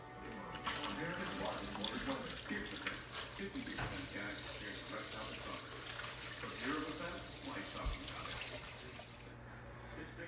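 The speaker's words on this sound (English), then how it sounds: "I think we're ready to start filling with water" Water pours steadily into a Fluval Evo 13.5 aquarium, a continuous gushing splash like a running tap, fairly close and unbroken, with faint background voices.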